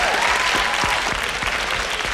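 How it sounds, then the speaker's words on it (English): An audience at a songwriters' master session gives a brief burst of steady, dense clapping that fills the room, close and loud. "A nice round of applause again for Jason."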